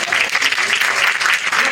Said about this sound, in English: Do you think you deserve a round of applause?